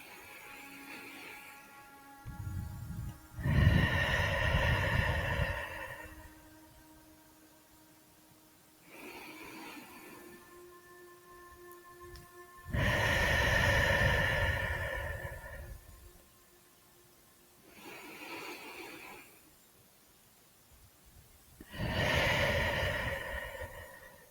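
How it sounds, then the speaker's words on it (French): Three slow, deep breaths, taken as part of a guided sophrology relaxation, are close and clearly audible with long pauses between them. Each breath swells into a full breathy rush and then fades before the next. "Tu vas maintenant prendre 3 grandes respirations profondes."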